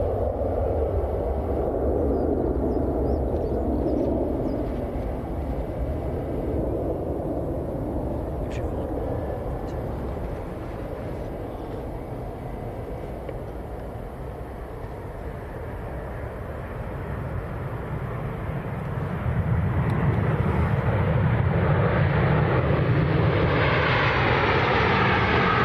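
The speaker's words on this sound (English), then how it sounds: "737-800 coming in from Dalaman. In the Paw Patrol Mighty Movie livery." A Boeing 737-800 in Paw Patrol Mighty Movie livery, arriving from Dalaman at Manchester Airport, rumbles from a distance before swelling into a louder, closer jet roar in the final seconds, with a voice speaking early on.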